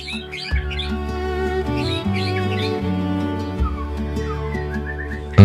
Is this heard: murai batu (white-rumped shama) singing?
yes